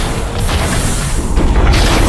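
A warp cannon explodes in the video game Transformers: Fall of Cybertron, a loud, sustained booming blast with rumbling low end that fills the whole moment without any voices.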